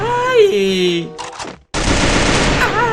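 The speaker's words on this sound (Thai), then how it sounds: "จริงสกายนี่เป็นปืนที่หูแตกมากๆเลยถ้าไม่ใส่จุกเก็บเสียงนะครับผม" Rapid bursts of automatic gunfire from a gun in the video game Free Fire crackle loudly, following a brief tonal sound and a short silence.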